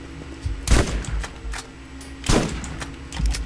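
A shotgun in the game Borderlands fires two loud, close blasts about a second and a half apart, each with a sharp crack and short booming tail, with lighter clanks between.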